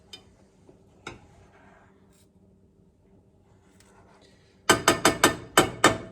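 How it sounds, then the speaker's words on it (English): A plastic spatula knocks and scrapes against a cast iron skillet while eggs are scrambled, a few quiet taps and then a quick burst of five or six loud, close clacks at the end. "I'm using a plastic spatula"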